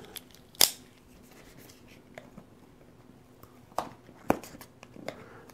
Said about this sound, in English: So, packaging is awesome. So let's see if I can get the sucker open.